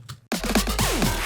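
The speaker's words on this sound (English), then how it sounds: "I also layered it with some dubstep sounds and a sweep" After a quick pause, a rapid snare fill rolls out in an electronic drop, layered with gritty dubstep bass textures and a sweeping tone that glides downward.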